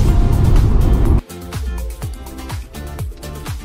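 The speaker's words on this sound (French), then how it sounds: "Vous l'entendez ce bruit? On a l'impression que la voiture elle est crevée, mais en fait non, c'est juste la route qui est dégueulasse" Car tyres rolling over a rough, badly surfaced road, a steady close rumble with repeated bumps and thumps as the wheels hit uneven patches, after a louder burst of noise at the start.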